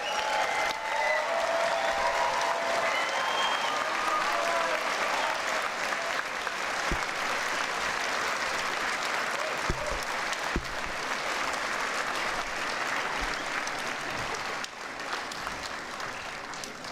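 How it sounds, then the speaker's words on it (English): A standing graduation audience at a university health and society ceremony claps for parents and supporters, loud sustained applause from a large crowd that continues evenly for many seconds before easing slightly near the end. "please can I invite you to stand up and clap to your parents and your supporters"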